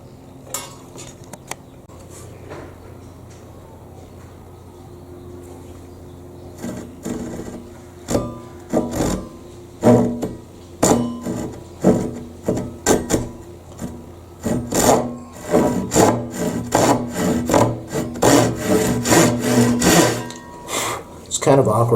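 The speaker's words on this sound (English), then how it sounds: "This is going to be the Harbor Freight saw." Harbor Freight hand saw working through a wooden board resting on three paint cans on a balcony: after a quieter start, steady back-and-forth rasping strokes come close and loud in a quickening rhythm.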